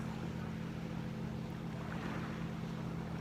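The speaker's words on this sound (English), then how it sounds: "Bit of a boat in the distance" A steady low engine drone from a boat some distance away in Turkey, continuous and even, with faint water and wind noise around it and no voices.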